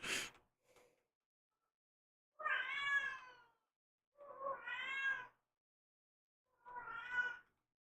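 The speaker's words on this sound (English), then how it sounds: "So you hear the cat yelling like that." Cat yowling in three drawn-out, wavering cries about a second long each, separated by silence, fairly close and clear after a brief noise at the start.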